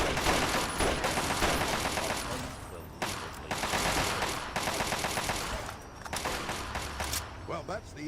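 Bursts of rapid automatic gunfire ring out in the video game Fallout, Tale of Two Wastelands, several dense volleys separated by short pauses, with voices talking over the shooting.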